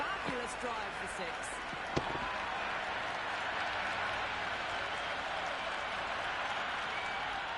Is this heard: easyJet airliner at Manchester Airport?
no